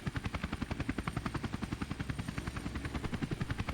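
A helicopter in the video game Tony Hawk's Underground chops steadily and rhythmically, its rotor thumping in an even, rapid pulse with a continuous engine whine underneath, heard alone without voices.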